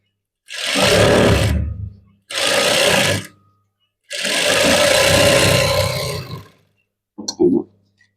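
A sewing machine stitches blouse lining in three long whirring runs with short pauses between, loud and close, followed by a brief clatter at the end.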